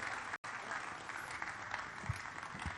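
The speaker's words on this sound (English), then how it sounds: "Let's keep clapping until he gets here." An audience at a cryptocurrency conference in Lagos claps steadily in a dense, continuous wash of applause, with one brief cut near the start and a few louder claps toward the end.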